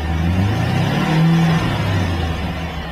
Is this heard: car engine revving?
yes